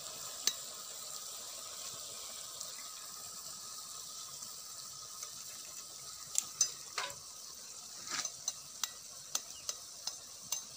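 Egg is stirred into ridge gourd frying in a pan, with a soft steady sizzle and a series of light scraping and clinking strokes toward the end, close and quiet, without any talk.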